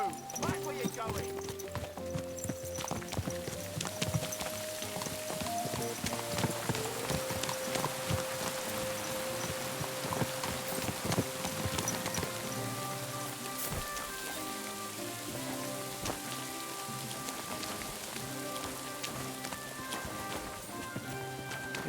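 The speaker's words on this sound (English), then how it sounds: "It's pissing down again." Steady rain pattering on surfaces in the medieval open-world game Kingdom Come Deliverance 2, mixed with horse hoof clip-clops and background music throughout, while a voice talks over it.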